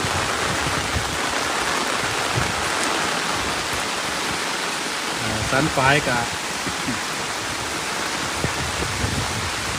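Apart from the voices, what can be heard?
rain falling by a canal weir, water flowing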